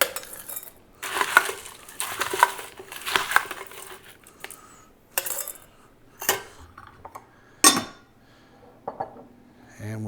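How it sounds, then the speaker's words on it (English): Crushed ice is added to a festive holiday drink, with bursts of clinking, rattling and crunching spread over several seconds and quiet pauses between them. "Top it off with a little bit of ice. Oh, crushed ice."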